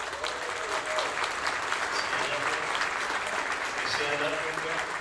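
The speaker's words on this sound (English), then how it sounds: "Let's give a big round of applause to Dick Anula right here." Sustained applause from an audience at a 2022 champions tribute event, a dense steady clapping crowd heard throughout at fairly close range.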